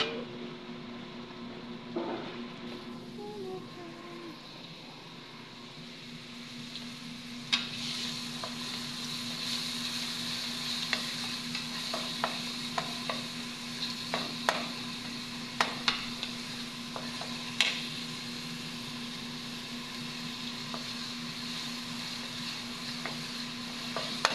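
Food sizzles steadily as it fries in a pan, with sharp clinks and scrapes of a utensil stirring it at irregular intervals, close by and with no talking.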